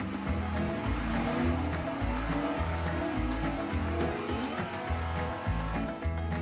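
A 408 small block Chevy V8 roars loud and steady on an engine dyno, running near at 36 degrees of timing and pulling up to 5,500 RPM, with a deep, pulsing exhaust rumble throughout.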